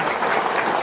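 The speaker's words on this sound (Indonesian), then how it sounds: "Tepuk tangan dulu dong." Applause from a seated audience at a motivational talk, a dense steady patter of many hands clapping throughout this very short burst, moderately loud and unbroken.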